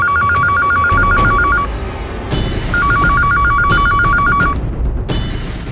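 A telephone rings in two loud electronic bursts of rapid warbling trills separated by a short pause, close and clear over a low background of indoor noise.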